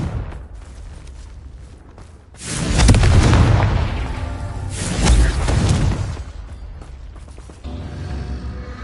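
Two heavy booming blasts from the Confringo fire spell in Hogwarts Legacy, each a loud broad burst swelling and slowly fading, the second a few seconds after the first, over a low game-ambience rumble.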